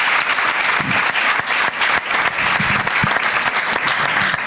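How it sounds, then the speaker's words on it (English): Loud, dense applause from a citizen assembly audience at a debt and anti-corruption event, steady clapping filling the hall throughout as a speaker returns to her seat. "Another big clap for Nyash as she takes her seat."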